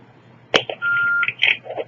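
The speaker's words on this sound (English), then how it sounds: "you hear that beep, that means they're recording" A recording beep on a sheriff station phone line, a single steady electronic tone lasting under half a second, set among brief clicks and line noise, fairly close, with no speech.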